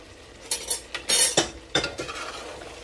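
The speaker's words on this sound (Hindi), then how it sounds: "तो अब जो है ना मैं आलू शामिल कर दूँगी" Potatoes are added to a pot of cooking chicken and stirred, making close, irregular metallic scrapes and clinks of a spoon against the pot, with a soft sizzle beneath and a few louder bursts.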